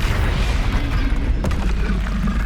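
Bombarda spell explosion in Hogwarts Legacy, a deep sustained booming rumble with a sharper burst near the middle, loud and dense throughout.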